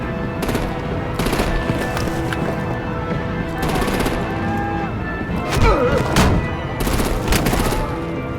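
Gunfire and heavy artillery in a battle scene from the video game Batman: The Enemy Within, with dense rapid bursts of automatic fire, booming impacts and crashes, loud and continuous, with voices shouting underneath.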